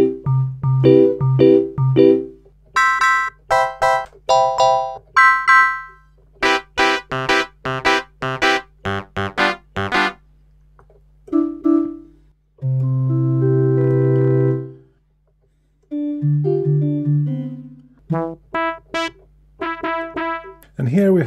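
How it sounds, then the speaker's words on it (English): Bright FM electric piano presets on a Yamaha PSS-280 keyboard play a run of short staccato chords and notes with gaps, then a few longer held tones, loud and close with no voices. "So first we have a lot of like these FM pianos"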